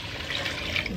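Beef broth pours into a cooking pot with barbacoa beef, a short continuous liquid splashing and gurgling stream, close and moderately loud, with no talking.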